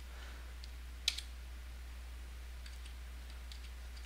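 Keys clatter faintly on a computer keyboard: a few light clicks, one a little sharper, over a steady low electrical hum.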